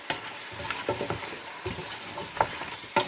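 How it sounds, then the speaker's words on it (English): Sambar powder and vegetables frying in hot oil in a pan, a soft crackling sizzle broken by repeated scraping stirs, close and fairly quiet. "this sambar powder has to cook in the oil along with this vegetables"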